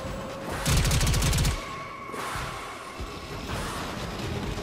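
The Fomorian ship's guns fire in the Warframe video game. A rapid, loud burst of heavy gunfire comes first, then lower rumbling booms and sustained hum from the battle in space.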